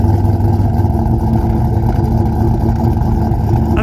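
A 1970 Plymouth Cuda with a 440 engine and clutch idles nearby, a steady heavy low rumble with a lumpy, even pulse that stays constant throughout.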